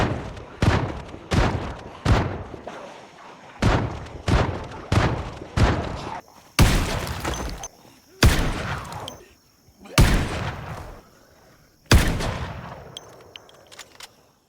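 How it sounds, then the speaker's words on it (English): Shotgun and marksman rifle fire in the Project Zomboid zombie video game, heard as a dozen loud, sharp blasts spaced a second or two apart, some with a lingering echoing tail, and no talking. "Using a shotgun and a marksman rifle, we cleared out the remaining undead in the entire area."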